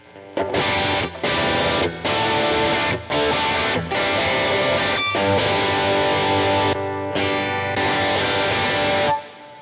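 A heavily overdriven electric guitar through a Violet drive pedal chugs loud and gritty, with short gaps between strummed phrases and a thick, saturated tone throughout.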